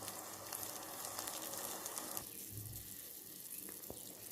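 Quiet, steady bubbling and sizzling of tamarind gravy simmering in a pan, with a soft click near the end and no voices.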